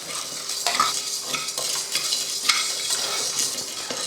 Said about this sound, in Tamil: அரிசி உளுந்து அப்புறமா கடலைப்பருப்பு மூணையுமே நல்லா பொன்னிறமாக வறுத்துருவோம்